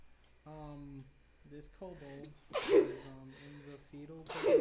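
Someone sneezes twice at a tabletop role-playing game, sharp bursts breaking between close conversational voices.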